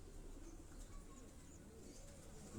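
A Sialkoti breed pigeon coos softly under a steady, noisy outdoor background, its low calls faint and continuous.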